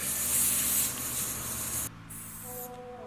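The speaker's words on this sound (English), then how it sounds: "spray some more lube right here" A close, loud aerosol spray of lubricant onto a dirt bike tire bead hisses for nearly two seconds, then stops, followed by quieter hissing and a faint whine.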